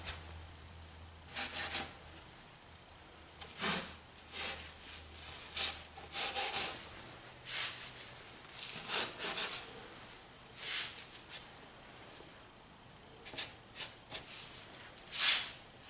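A paper towel rubs and dabs oil paint on a landscape canvas, giving soft papery swishes and scrubbing strokes in irregular bursts, fairly close and quiet, with no speech.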